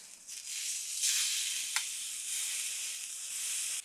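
A steak sears in a hot pan with a steady, bright sizzle that swells briefly as the meat is flipped over, then settles back to an even crackle close by with no talking.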